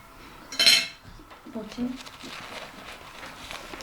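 A bright metallic clink of a fork against a dish rings out once at a child's birthday meal, followed by softer scraping and tapping while people talk nearby.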